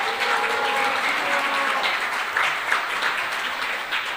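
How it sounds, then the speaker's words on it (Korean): A large audience claps steadily and continuously in a city council assembly hall after a seniors' performance, a dense, even wash of applause without speech. "회원님들께 다시 한번 응원의 박수를 보내주시기 바랍니다"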